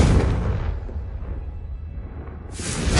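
A fiery Confringo spell bursts in Hogwarts Legacy with a loud, booming blast that rolls off into a rumbling decay, then a second explosive burst hits near the end.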